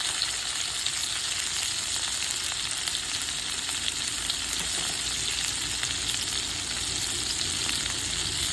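Small chicken pieces fry with fresh cumin paste, green chillies and black pepper, making a loud, steady sizzle that runs unbroken and close up, with no talking.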